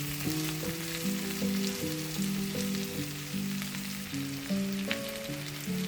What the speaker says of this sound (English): Add fresh spinach leaves and mix well.